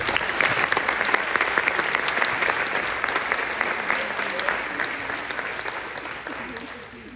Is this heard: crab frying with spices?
no